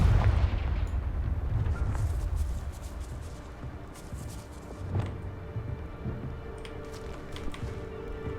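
Confringo fire-spell explosions in the Hogwarts Legacy video game rumble as deep, loud booms, with a heavy low blast at the start, later bursts and crackling debris over a constant game ambience.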